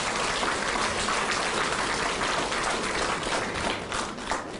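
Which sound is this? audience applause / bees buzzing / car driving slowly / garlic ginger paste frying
audience applause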